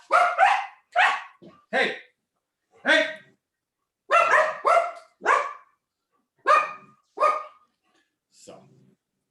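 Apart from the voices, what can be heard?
dogs barking at strangers in the house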